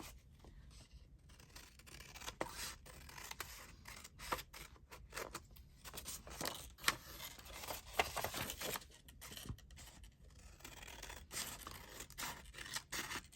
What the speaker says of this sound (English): I'll use my scissors.